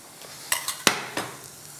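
A spatula stirs melted white chocolate gently in a bowl, a few soft scraping swishes and light taps, quiet and close.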